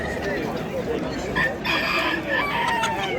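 Chickens cluck and a rooster crows at a busy poultry market in Namangan, the bird calls loud and close over a steady crowd murmur.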